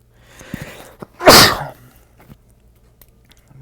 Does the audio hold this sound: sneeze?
yes